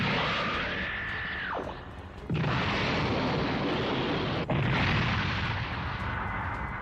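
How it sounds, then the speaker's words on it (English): A cyclone pulse rifle attack fires in a game scene, heard as a rising charged whine giving way to a sustained roaring, dense energy blast that cuts briefly and resumes at full loudness. "Big cyclone pulse rifle attack."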